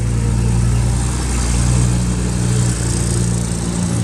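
An 8,000 lb Hyster S80XL cushion tire forklift engine runs at a loud, steady idle up close, a continuous low rumble with a hum that barely changes over a few seconds, with no voices.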